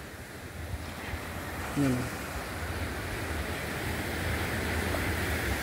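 Sea waves wash steadily at Sumadag Beach in Maconacon, Isabela, a soft continuous surf roar with some wind, and a person speaks briefly over it.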